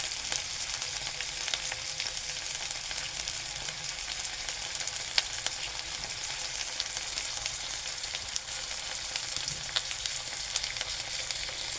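Stuffed bitter gourds frying in a pan, a continuous even sizzle and crackle with scattered small pops, close and steady from start to finish.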